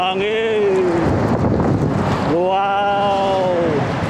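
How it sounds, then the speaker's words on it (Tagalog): Strong wind buffets and roars against the microphone in a steady, blustery rumble while a voice speaks over it in drawn-out exclamations. "lakas ng hangin"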